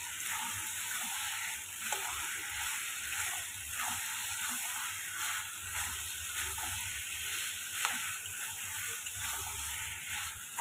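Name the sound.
potato and pointed gourd being sautéed in a pan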